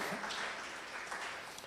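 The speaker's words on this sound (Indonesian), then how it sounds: "Tepuk tangan dulu bagi Tuhan yang hebat." Faint applause from a church congregation, a brief patch of clapping heard at a distance.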